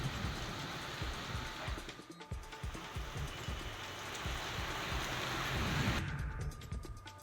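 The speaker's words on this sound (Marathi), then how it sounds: "अचानक अवकाळी पाऊस वाऱ्यासह जोरदार पाऊस बरसला" Heavy unseasonal rain with wind during a hailstorm, a dense continuous roar of rain and gusts with low rumbling thuds, fairly steady and close, no talking.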